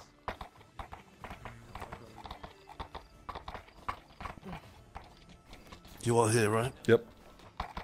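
Horse hooves clip-clop in a video game in a rapid, fairly faint rhythm behind conversational talk, joined near the end by a louder burst that sounds like a neigh or whinny.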